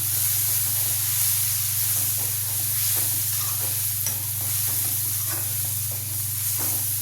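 Red chili powder, black chili powder and turmeric being sautéed with cooked tomatoes in a pan, a continuous close sizzle and hiss with scraping stir strokes over a steady low hum.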